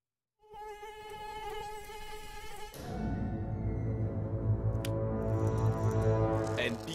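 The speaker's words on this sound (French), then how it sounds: "Un piqué à moustique bien dangereux." Mosquito buzzing in a public health advert about malaria, chikungunya and dengue, a close high whining drone that starts abruptly, then continues under a louder, denser rumbling layer that swells in the second half.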